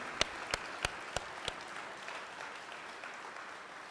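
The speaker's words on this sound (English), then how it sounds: "One more round of applause for Cameron and Adrian." A few sharp, close handclaps open a round of applause for two graduating apprentices, Cameron and Adrian, at a Local 425 apprenticeship graduation ceremony, then fade into faint, diffuse clapping from a distant crowd.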